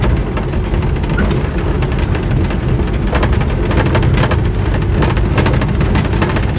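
Land Rover 110 with a 2.5-litre diesel engine and soft top, driving over rough ground through a dip, a loud, steady engine drone with rattling and road noise throughout.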